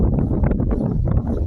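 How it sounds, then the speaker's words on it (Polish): Strong wind buffeting the microphone at a wind farm with NEG Micon M700 turbines, with a constant low rumble and gusty roar, loud and close throughout. "Dzisiaj jest dość mocny wiatr"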